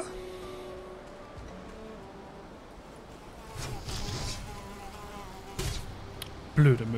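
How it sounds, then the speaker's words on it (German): A mosquito buzzing in the survival video game Valheim, a thin insect whine over quiet game ambience that grows louder for a few moments, with a sharp thump near the end. "Blöde Mücke."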